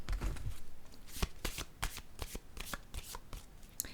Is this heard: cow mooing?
no